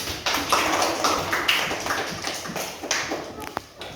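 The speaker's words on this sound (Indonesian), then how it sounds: "Tepuk tangan buat anak ibu." Schoolchildren clap their hands together in a classroom, a continuous close patter of many claps lasting several seconds, with a few sharp individual claps standing out near the end.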